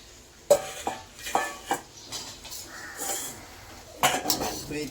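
Fried rice with paneer being stirred in a pan, a utensil clinking and scraping against the metal in irregular, close knocks and scrapes.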